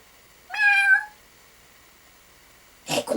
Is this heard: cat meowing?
yes